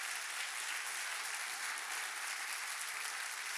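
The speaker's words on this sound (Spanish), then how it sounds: "Dale un fuerte aplauso." Church audience applauding in a steady, even wash of clapping that holds at moderate volume from start to finish, with no talking.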